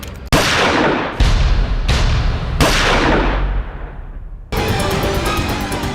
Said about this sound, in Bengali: গুলির শব্দ ডান আমাদের কাছে ঠিক যেন সানাইয়ের মতো লেগেছিল।